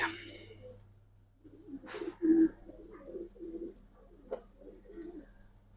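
Silver Giribaz pigeons of an old breed give low, soft coos close by, several short calls spaced out over a quiet background hum.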